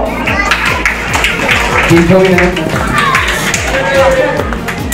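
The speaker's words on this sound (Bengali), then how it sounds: "হাততালি দাও।" Audience at a school prize-giving clapping in a quick, dense rhythmic patter, close and loud, mixed with children's chatter and crowd babble.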